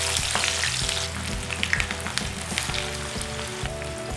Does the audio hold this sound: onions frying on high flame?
yes